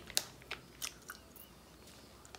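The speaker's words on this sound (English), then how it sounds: "my gums hurt trying to chew on this, trying to bite on it" Hard Haribo gummy candy from Germany being chewed and bitten, giving a few soft, close crunchy bites spaced irregularly over a quiet background.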